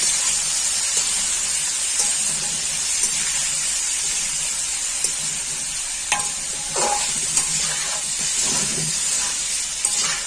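Taro root (arbi) pieces fry in a pan over a medium flame, giving a steady, dense sizzle and hiss with occasional crackles and pops. No voices are heard.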